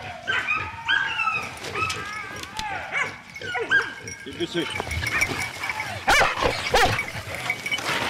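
Hunting dogs bark, yip and whimper excitedly during a wild boar drive hunt outdoors, overlapping calls close by, with people shouting over the pack.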